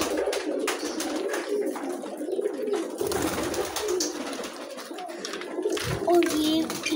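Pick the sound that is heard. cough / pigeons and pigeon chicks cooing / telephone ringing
pigeons and pigeon chicks cooing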